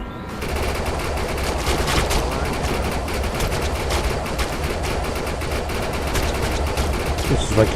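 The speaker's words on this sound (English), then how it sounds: "This is like a mini machine gun or something" Mini machine gun firing in the video game Defiance 2050: a dense, continuous stream of rapid shots at steady loudness for nearly the whole stretch, with game sounds and a voice talking underneath.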